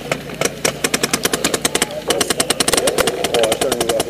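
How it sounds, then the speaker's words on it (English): Rapid bursts of gunfire crack in quick succession near a graveyard with bunkers during a Day of the Dead game session, loud repeated shots in rhythmic volleys with a faint voice underneath. "He's again shooting."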